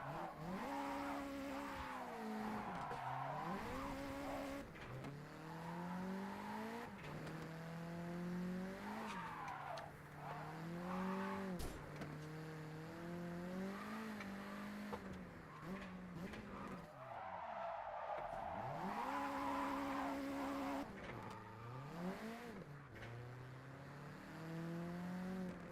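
Video game racing with a JDM car, the engine whining and rising and falling in pitch as it revs and shifts, with repeated tire squeals and skids sounding close and continuous.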